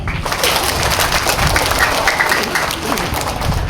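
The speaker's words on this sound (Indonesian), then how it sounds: "Tepuk tangan untuk kita semua." Sustained crowd applause at a parish welcoming ceremony for a priest and a nun, a broad wash of clapping that stays loud and even, with some voices mixed in.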